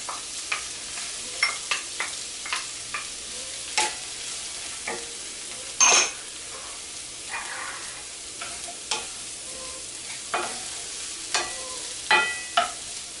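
Onion and mushrooms fry in a pan with a soft steady sizzle while a utensil stirs and scrapes them in frequent short clicks and taps, fairly quiet and close, with no talking.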